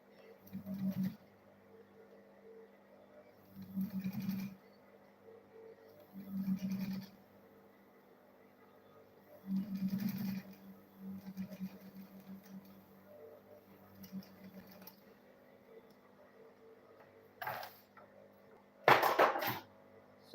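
A small leather purse with its lining being stitched on a sewing machine: short, evenly spaced bursts of mechanical whirring, each about a second long, separated by quiet pauses and ending with a sharper clatter, with no talking.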